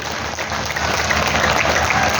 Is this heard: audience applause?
yes